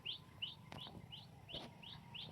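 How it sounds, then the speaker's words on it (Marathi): A sparrow chirps in a quick repeating series of bright, short tweets, fairly faint, with a couple of soft thuds among them. "बघा इथं चिमणी कशी ओरडते"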